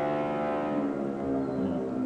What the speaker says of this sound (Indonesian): Suara motor kayak di sirkuit aja.